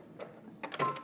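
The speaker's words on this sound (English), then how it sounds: "I'm gonna go ahead and backstitch," A home sewing machine backstitches on a wrap dress seam, giving short whirring bursts of needle action close by. The quiet stitching comes in brief spurts separated by pauses.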